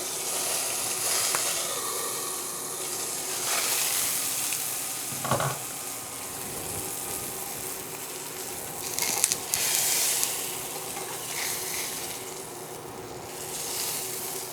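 Salmon fillet sears steadily in a hot pan with a continuous bright sizzle and hiss, with occasional louder crackles and spatters over the constant frying noise, close up and alone.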